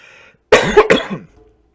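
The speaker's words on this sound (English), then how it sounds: "I don't know why I'm coughing today" A short fit of harsh coughing, two or three close bursts, loud and near, with quiet before and after.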